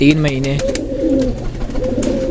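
Pigeons in a loft give low, throaty coos up close, a rolling series of soft repeated calls with a voice briefly heard among them.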